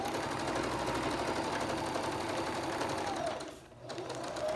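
A sewing machine stitching fabric on water soluble stabilizer for batik lace, running as a steady close rapid whir, then pausing briefly near the end before resuming.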